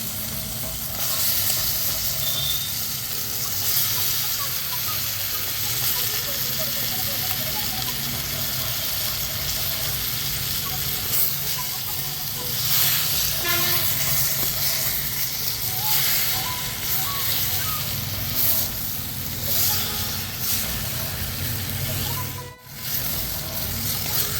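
Chicken pieces sizzling and frying in a pan for Malabar-style pepper chicken, a steady dense hiss with occasional stirring scrapes, close and continuous throughout with a brief dip near the end.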